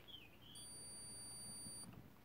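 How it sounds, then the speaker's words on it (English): A steady electronic beep from a homemade MOSFET solid-state relay test circuit holds for just over a second, a thin high tone over a low background hum. "and we should hear a beep."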